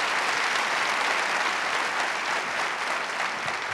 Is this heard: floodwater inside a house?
no